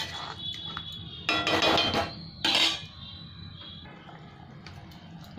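A metal spoon stirs matar paneer curry with ghee in a pan, giving quiet scraping broken by two louder bursts of ringing clanks against the metal.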